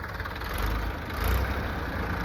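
A steady low engine idle rumbles on without a break, close by, with a faint rise in loudness midway and no voices.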